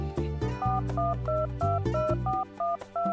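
A phone keypad dials a cell phone number as a quick series of paired beeping tones, evenly spaced, over a low musical background.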